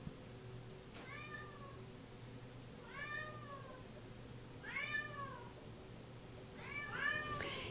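A shy cat at an animal shelter meows four times, each a clear drawn-out call spaced a couple of seconds apart, fairly close over a quiet background hum.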